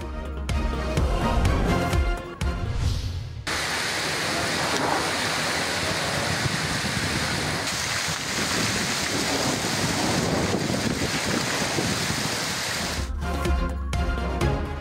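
Heavy rain pours down in Islamabad as a loud, steady broadband roar that fills most of the stretch, with a voice briefly heard at the beginning and end.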